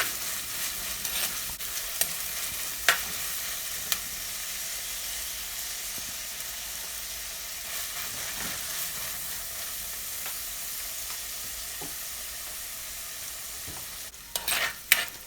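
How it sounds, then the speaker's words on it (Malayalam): Crushed ginger and sliced onion sautéing in a pan for a Kerala-style mushroom curry, a steady sizzle with occasional stirring clicks and scrapes, close and fairly loud throughout, with a louder burst of stirring near the end. "ഒരു വലിയ കഷ്ണം ഇഞ്ചി ചതച്ചത് ഇതും കൂടി ഇട്ട് കൊടുത്തിട്ട് നന്നായിട്ട് ഇതൊന്ന് വഴറ്റിയെടുക്കണം"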